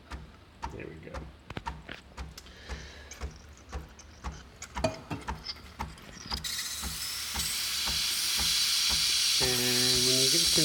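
Rhythmic tapping gives way to a steady, building hiss of a Breville Express BES870XL espresso machine's steam wand, loud and continuous, with a brief tonal whine near the end.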